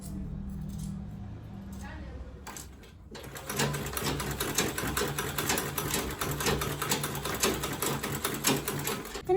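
A sewing machine stitches a quilted tote bag, starting after a quieter stretch of small handling noises and then running in a steady rapid rattling whir, close and continuous to the end.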